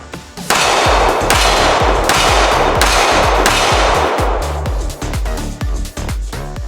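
A Sig P320 XTEN pistol chambered in 10mm fires a quick string of about five loud, sharp shots, each a booming crack with a short ringing tail, very close and with no voices.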